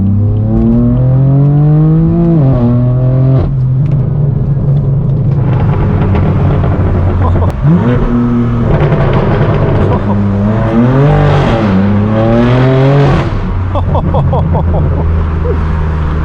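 A BMW M4 F82 accelerates hard on a highway, its engine revving up through several gears in rising sweeps with brief dips at each shift. The engine stays loud and continuous throughout, and no one talks.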